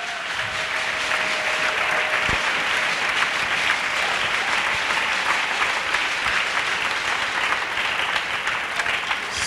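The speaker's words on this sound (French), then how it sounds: "Let's clap for Jesus." A church congregation claps steadily in dense, sustained applause that fills the room at an even loudness throughout, with no voices standing out above it.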